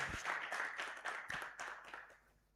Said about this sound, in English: Let's appreciate them, please, with a clap